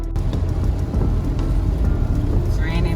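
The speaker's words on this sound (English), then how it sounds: "It's raining guys." Steady rain pours down in Jamaica in a dense, continuous wash of noise, fairly loud, with a faint low rumble beneath.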